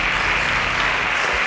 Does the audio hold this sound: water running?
no